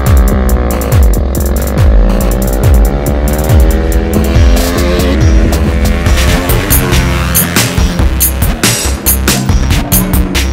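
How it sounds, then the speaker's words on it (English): A loud, buzzing two-stroke race motorcycle engine, likely a 450cc Husqvarna, revs up and down continuously, close by, with a rough, throbbing whine. "The two-stroke motorcycle here"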